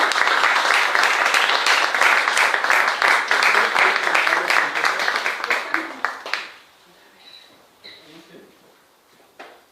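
Audience at a talk on the Interoceanic Corridor applauding to welcome speaker Miguel Ángel, dense sustained clapping for about six seconds that then fades to scattered quiet claps and room noise.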